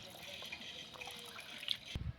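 Cold mountain spring water trickles and splashes continuously from a pipeline at low volume, a steady flowing stream with faint drips, ending in a brief thump.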